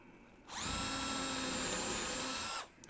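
A power drill fitted with a 4mm bit runs flat out, working on a wooden box sleeve: a loud, steady high-pitched whine close by for about two seconds, then it spins down and stops.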